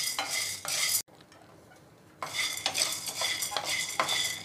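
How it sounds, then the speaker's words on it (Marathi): A spoon or spatula scrapes and stirs chickpeas and cowpeas dry-roasting in a pan for thalipith flour, giving loud repeated rustling strokes with a short quiet pause partway through. "हे दोन्ही एकत्र भाजूया. छोले आणि चवळी."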